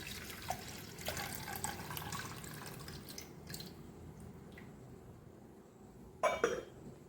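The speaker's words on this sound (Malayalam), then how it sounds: "ഇനി നമുക്ക് 2ാം പാൽ ഇതിലേക്ക് ഒഴിക്കാം." Coconut milk is poured steadily into a dish for a few seconds, then a few soft drips and clinks follow in a quiet room.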